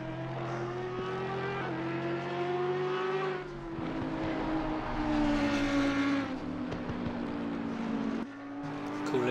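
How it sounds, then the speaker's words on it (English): An Audi R8 GT3 race car in Assetto Corsa Competizione sends out a sustained engine drone that rises and falls with gear changes. Tyres squeal briefly amid other cars on the track, and a voice talks faintly under the engine noise. "Driving the Audi R8."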